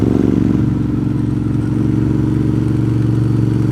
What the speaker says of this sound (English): I am on a 2009 Ducati Monster 1100